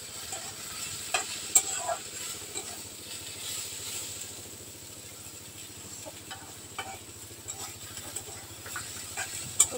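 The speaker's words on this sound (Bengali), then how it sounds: "আর বেগুনগুলি ভাজা হয়ে গেছে" Eggplant pieces frying in oil give a soft, steady sizzle with occasional crackles and small clinks, fairly quiet and continuous with no talking.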